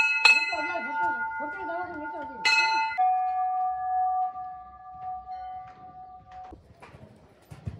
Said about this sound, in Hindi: आवाज़ नहीं आ रही क्योंकि घंटी बज रही है।